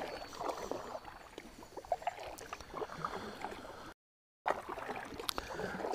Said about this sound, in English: I'm gonna keep paddling